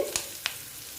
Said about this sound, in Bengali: লাল লাল করে একটু ভেজে নেব দেখো পেঁয়াজটা প্রায় ভাজা হয়ে এসছে